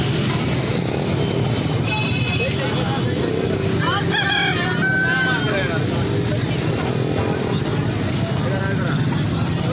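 An Aseel rooster crows through a steady, loud background of voices and general noise at a rooster market.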